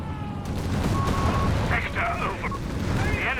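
A Pak 38 anti-tank gun firing in the Company of Heroes 3 strategy game, with repeated gunfire blasts and battlefield effects under a continuous voice talking over the action.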